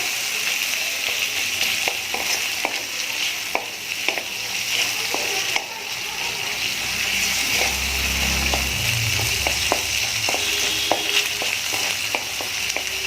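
Spices stirred and fried with prefried prawns in a pan for Bengali lau chingri, a constant close sizzle with repeated scraping stirs and occasional soft knocks throughout.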